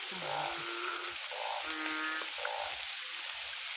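Young narrow-mouthed toads croak at night in short, nasal calls, several overlapping in steady succession over a constant hiss of background noise.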